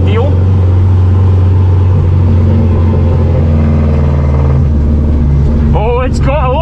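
A Subaru drift car's engine runs loud and close throughout, a steady low rumble building as it accelerates on a test drive, with rising revs and a brief whine of speech-like tones near the end.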